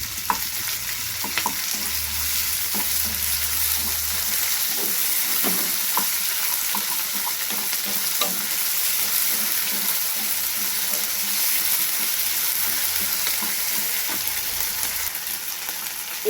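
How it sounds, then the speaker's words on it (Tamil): Onion, tomato, ginger, garlic and curry leaves sauté in a pan with a continuous hiss of sizzling oil, broken by scrapes and knocks of stirring, close and steady for the whole stretch. "எல்லாத்தையும் நல்லா வதக்கிக்கணும்."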